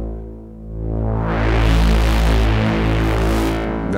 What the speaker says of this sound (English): Bit crushing noise kind of stuff.